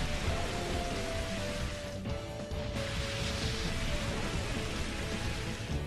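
Steady rain hissing from the Rain Dance move in the video game Pokemon XD: Gale of Darkness, a dense even wash of falling drops that carries on unbroken and fairly soft throughout.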